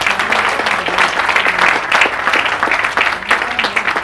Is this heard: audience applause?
yes